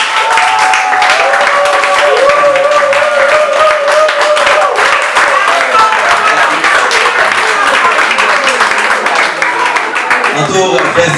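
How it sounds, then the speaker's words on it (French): An audience applauds Madame Blaise at an event, loud, sustained clapping from a crowd that continues steadily and fades slightly near the end. "Je voudrais qu'on puisse acclamer Madame Blaise, s'il vous plaît."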